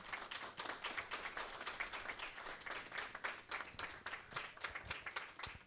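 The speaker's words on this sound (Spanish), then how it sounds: "Un cálido aplauso." An audience at a Dominican pediatric hospital's scientific conference honoring a doctor breaks into steady, fairly close applause, many hands clapping in a dense ongoing patter that continues for several seconds with no talking over it.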